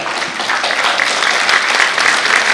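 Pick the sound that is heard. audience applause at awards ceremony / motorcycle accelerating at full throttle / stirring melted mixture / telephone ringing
audience applause at awards ceremony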